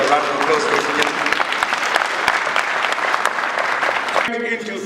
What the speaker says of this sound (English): you give a round of applause, ladies and gentlemen.